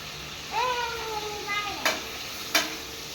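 Chicken stirred and sautéed in a pan for biryani, a low sizzle under a voice, with two sharp spoon scrapes against the pan near the end.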